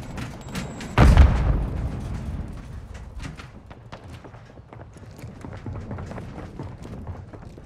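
A shock stick grenade is thrown in the video game Call of Duty: Modern Warfare II: one heavy thudding burst near the start, then a low, rumbling battlefield bed with scattered small clicks.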